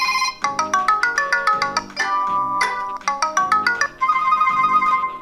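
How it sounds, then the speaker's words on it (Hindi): Preset ringtone from a DW89 Ultra 4G Android smartwatch, a bright repeating electronic melody of quick plucked notes in short phrases, played loud and clear with no talking. "इसके अंदर आपको कुछ कुछ रिंगटोन्स ऑलरेडी देखने को मिलते हैं।"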